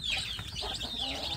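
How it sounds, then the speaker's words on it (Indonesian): Newly hatched free-range kampung chicks clucking and cheeping in a short, soft burst of overlapping high calls, close by but faint. "ini anak-anak ayam kampung"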